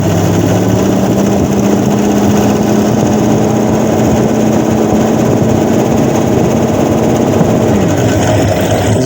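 A Magnum 5.2L engine swapped into a 1969 Dodge Dart runs rough with its timing off, giving a loud, continuous, close idle drone that holds steady throughout without any voices.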